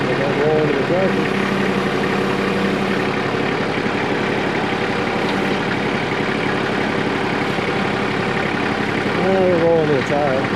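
Tractor engine idling nearby during a small pond clean-out, a steady low mechanical rumble that runs throughout with a slight rise toward the end, while voices talk over it.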